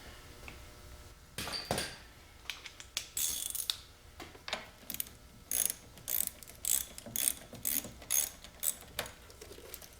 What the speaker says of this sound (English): Alright, so we're going to disconnect the negative terminal.